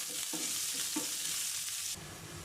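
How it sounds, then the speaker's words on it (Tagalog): Chopped onion sizzles and crackles in hot oil in a pan, with a couple of stirring scrapes, and the frying hiss stays steady and close before dropping slightly near the end. "Panggigisa ko ito dito sa sibuyas, bawang, luya, at kamatis."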